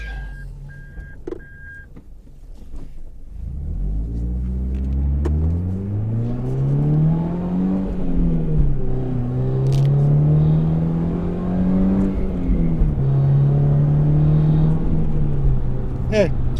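Engine of a 1999 Toyota Altezza RS200 Z Edition 2.0L with six-speed gearbox idling, then rising into a low whining hum as it moves in reverse, with engine pitch swelling and easing; a steady close rumble.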